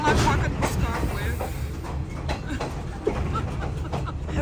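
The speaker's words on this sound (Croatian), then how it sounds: "Aj, vlak fakat poskakuje." Passenger train rattling and bouncing along the tracks through the Sri Lankan hill country between Kandy and Nuwara Eliya, a steady loud rumble with irregular clunks and jolts, heard close from inside the carriage with voices under it.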